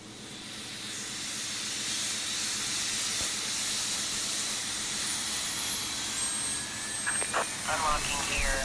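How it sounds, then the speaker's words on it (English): An E-Jet airliner engine spools up with a rising whine and broad steady roar, growing louder over several seconds, with faint clicks near the end. "The engine start sounds on this airplane are pretty good."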